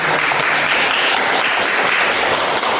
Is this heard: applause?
yes